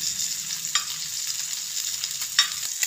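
Sardine fish frying in hot oil give off a soft, continuous sizzle, with a few sharper crackles and pops standing out against the steady hiss.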